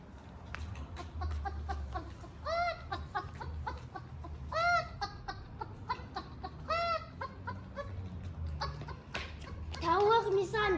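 A chicken clucks in short repeated bursts, nearby and moderately loud, while people talk over it.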